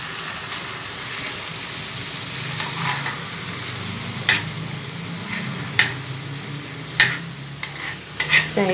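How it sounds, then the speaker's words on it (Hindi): Fish fries on a tawa with green coriander and green chillies, giving off a soft, steady sizzle. Sharp clinks and scrapes of a utensil strike the pan now and then, coming more often toward the end. "बहुत अच्छी तरह से फ्राई हो गई है मछली।"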